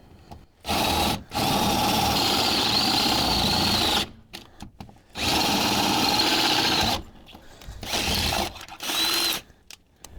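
Power drill boring 3/8 inch holes in steel for nutserts on affordable 4x4 under-armor, with several loud sustained bursts of whirring bit noise separated by short pauses, close by and without talk.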